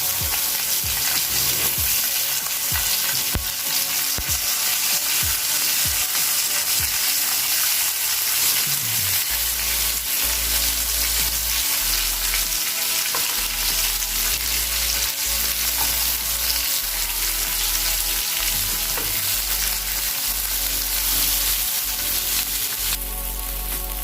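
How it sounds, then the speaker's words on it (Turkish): Steady, loud sizzling of tomatoes and peppers frying in hot meatball fat in a pan, continuous crackle throughout with occasional low thumps of stirring. "Domateslerimizi ve biberlerimizi kızartalım"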